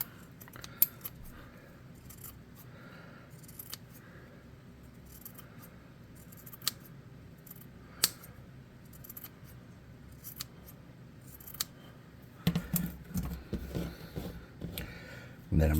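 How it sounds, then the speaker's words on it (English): Scattered, faint snips of scissors cutting fabric strips of varying sizes and shapes, close by and irregular, with occasional rustling and handling noise growing busier toward the end. "I'm going to cut some fabric strips in different sizes and lengths and shapes."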